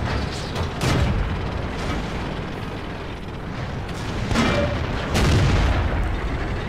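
Cannon shots boom from tanks in World of Tanks, an ARL 44 among them. Several heavy blasts and rumbling game sounds come with no voice over them.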